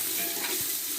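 Onions fry in a pan over a wood-fired stove, making a steady, close, dense sizzle with a soft stirring scrape partway through.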